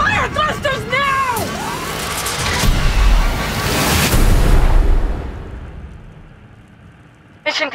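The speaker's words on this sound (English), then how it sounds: "Fire thrusters now!" Rocket thrusters fire in a movie trailer with a deep, swelling roar that builds over several seconds and then fades, while a voice speaks briefly at the start.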